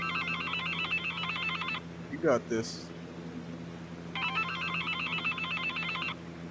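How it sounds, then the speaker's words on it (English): A trilling electronic phone ring in the office game Accounting sounds in two bursts, with a short pause between them filled by a brief spoken remark and a clattering noise. "Let's answer this phone."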